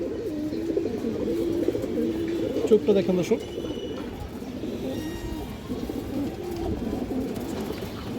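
A Muslodom pigeon coos nearby in low, rolling calls that keep going beneath someone talking steadily in the foreground.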